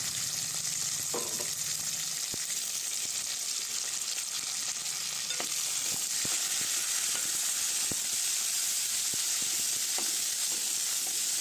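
Onion pieces sizzle steadily in hot oil for a potato fry, a continuous broadband frying hiss with occasional sharp pops and stirring clicks, close and alone without talk.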